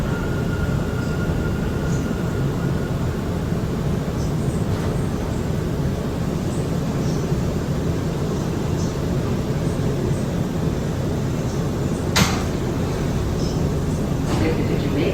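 An R179 subway car on the F line runs Jamaica-bound through Queens near Forest Hills–71st Avenue, giving a steady interior rumble and whine with a brief metallic screech near the end.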